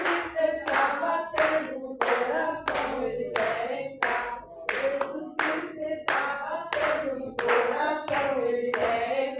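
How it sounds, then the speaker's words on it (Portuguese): A church congregation claps hands in time with a Portuguese hymn, sharp rhythmic claps landing about twice a second, close and distinct over the singing voices. "Bate palmas, palmas, palmas, bate palmas sem cessar"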